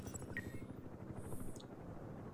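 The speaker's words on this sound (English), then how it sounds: "they've also got a helicopter there as well" Helicopter in the Broken Arrow strategy video game, a faint rapid rotor thudding pulsing steadily throughout with small interface blips on top.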